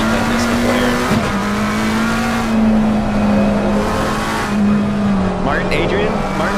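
BMW and McLaren GT race cars circling Indianapolis, engines droning loud and steady at a fixed pitch with gear-change dips and passing surges, under continuous commentary.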